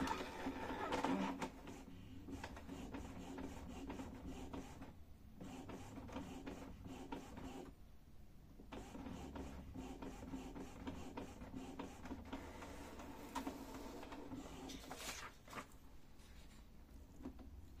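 Epson L-series inkjet printer running a nozzle check printout, a continuous mechanical whir with rhythmic carriage passes and brief pauses, steady and close throughout.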